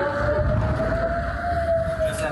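An air raid siren in Israel holds one steady wailing tone, moderately loud over background noise, with a voice speaking faintly underneath.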